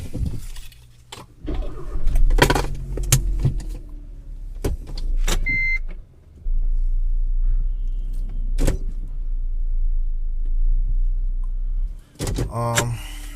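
Keys jangle and clicks sound inside a 2013 Hyundai Veloster before the engine turns over and settles into a steady low idle, with more clicks and beeps later; the car has a stalling fault.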